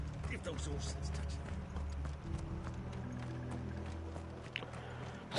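Horses gallop in Final Fantasy 16, their hooves a steady rhythmic clip-clop running throughout, moderately close, laid over dense game sound and background talk.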